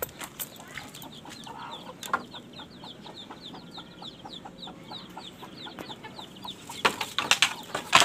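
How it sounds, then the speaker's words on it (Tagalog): Chickens in a backyard coop during feeding time, with chicks among them, peeping and clucking in repeated short high calls that grow louder and busier toward the end. "Sisiw."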